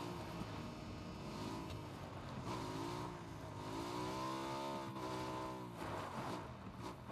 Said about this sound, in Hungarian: Motor hallok.